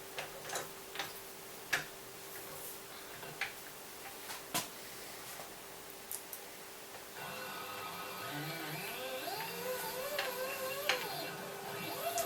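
Lathe with an electronic lead screw cutting a thread, soft regular ticks giving way to a steady stepper motor whine with rising and falling pitch, close and quiet, no talking.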